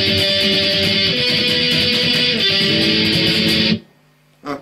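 An electric guitar plays the first part of a song's solo with a bright, driven tone. It sounds steady for nearly four seconds, then cuts off, leaving a short quiet tail and a small final note.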